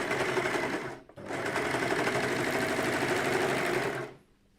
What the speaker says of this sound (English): she's impressed with how slow you can get the overlocker to go